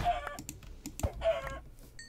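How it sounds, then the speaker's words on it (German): Chickens in the Minecraft video game give a few short, clucking squawks in quick bursts, mixed with clicking game noises and faint tones. No one speaks. "Hier sind ganz viele Hühner."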